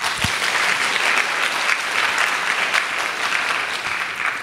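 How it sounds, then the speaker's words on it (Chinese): Audience at the HITCON 2021 security conference claps steadily during a talk, a dense, even round of applause filling the room with no voices over it. "好，那这个时候应该有鼓掌。"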